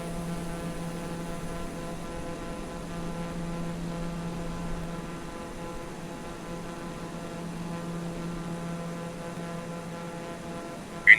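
A steady, muffled drone from an airplane climbing out after takeoff, heard as an unbroken engine hum with a faint tonal whine, even and moderately loud throughout.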